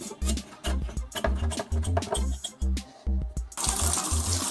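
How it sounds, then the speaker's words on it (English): Water runs from a tap in uneven, gurgling bursts while draining or filling for a reef aquarium water change, close and fairly loud, ending in a steadier rushing flow. "Alright, got the water working."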